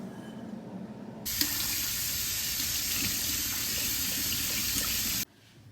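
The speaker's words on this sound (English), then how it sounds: "Add your 2 cups of water." Tap water gushing into a pot for cooking rice, a loud steady splashing rush that starts abruptly after a quiet moment, runs for about four seconds and cuts off sharply.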